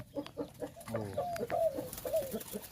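Dove-type bird (nok khao) sounding a full three-note coo phrase, a rhythmic repeated cooing with clucking notes, moderately close and fairly quiet over outdoor background.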